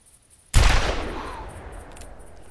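A single loud .45 Long Colt revolver shot in theHunter Classic, a sharp close blast followed by a long rolling echo that fades slowly over faint outdoor ambience.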